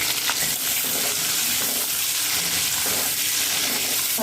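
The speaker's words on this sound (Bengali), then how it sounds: "এই মাছের সাথে ডিমগুলোকে ভালো করে লাল লাল করে ভেজে তুলে নেব।" Fish roe fries in hot oil, giving a dense, constant crackling sizzle with some spattering. It is close and steady throughout, with no voices.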